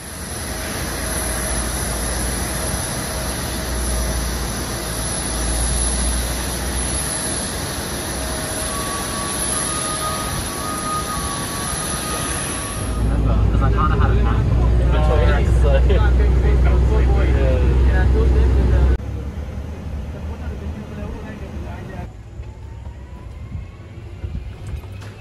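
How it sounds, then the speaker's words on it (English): Aircraft engines roar steadily from outside an airport terminal on an open-air balcony, a loud continuous drone that deepens and swells midway, then fades to a quieter hum. "you can hear the noises of your aircraft"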